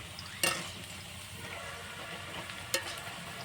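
Raw potato french fries frying in oil over medium heat, a steady close sizzle broken by two sharp clinks of stirring against the pan, with no talking.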